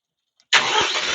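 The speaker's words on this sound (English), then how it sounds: "Okay, we're going to start the tractor." A TYM T574 tractor's diesel engine cranks and catches after a brief quiet pause, then settles into a steady, loud running rumble close by.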